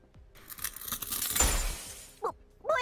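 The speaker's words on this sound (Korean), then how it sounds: "뭐야? 웬 거울 깨지는 소리가?" A mirror shatters in the Korean online action game Closers: a loud burst of breaking glass that swells and tails off into scattered tinkling shards, followed by a couple of short sharp effect sounds.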